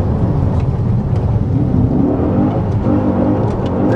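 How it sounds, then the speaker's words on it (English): Dodge SRT8 V8 engine held near the rev limiter on a farm, a steady loud droning roar with a slight bouncing edge, close by and without talk. "Rev limiter."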